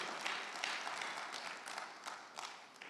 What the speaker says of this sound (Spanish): démosle un aplauso fuerte a Dios